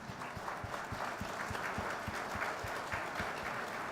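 Audience at the IESA forum applauding: a sustained, even wash of clapping from a crowd, moderately distant, with no speech over it.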